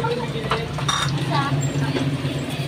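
Chicken ala king being stirred in a pot, with scraping and light metallic clinks of a spoon against the pan in a steady rhythm, and a voice talking over it.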